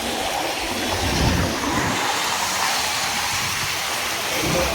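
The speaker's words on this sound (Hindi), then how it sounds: "और बारिश भी हो रही है" Steady rain hisses continuously, a dense even patter close by with a faint low rumble underneath and no talking.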